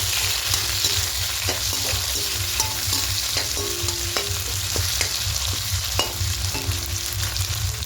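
Capsicum, green chillies and raisins fry lightly in a pan, a continuous sizzle under a low steady hum, with repeated clicks and scrapes as the pieces are stirred.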